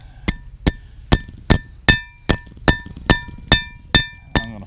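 About eleven sharp, evenly spaced hammer blows flattening plastic water line on a small rail ring out with a bright metallic clink, close and steady, with no talking.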